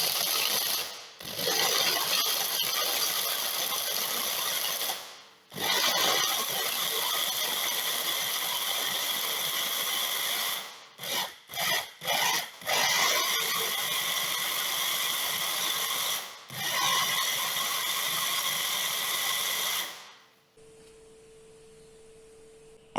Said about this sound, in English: Close up the blender and blend until the nuts forms a coarse-like texture.